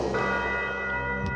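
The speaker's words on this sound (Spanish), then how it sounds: "Mientras sonaba la campana de la catedral" A cathedral bell rings at midnight, its sustained tolling tones hanging steadily and fairly faint across the short stretch, with no voices.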